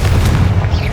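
Confringo blasting spell exploding in Hogwarts Legacy, a loud, deep booming burst with a rumbling low-end tail that sustains through the short moment.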